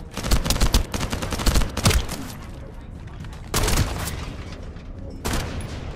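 Loud, close shotgun blasts from the looter shooter The First Descendant, three heavy booming shots spaced a couple of seconds apart, each trailing into rumbling game ambience.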